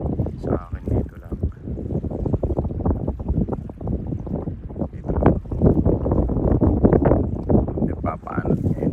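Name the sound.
strong wind on a boat at sea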